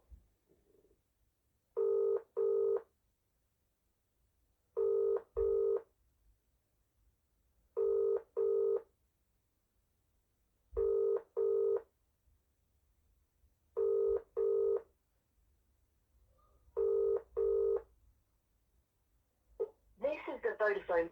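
Mobile phone dialing and ringback before a Vodafone voicemail answers: seven evenly spaced double tone bursts roughly every three seconds, clear and close, with a brief burst of a different sound at the very end.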